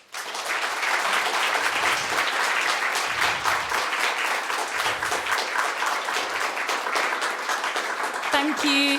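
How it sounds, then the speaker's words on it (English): Sustained, dense audience applause fills a university dissertation showcase hall, steady and loud for the full stretch before trailing off at the end. "you deserve a big round of applause"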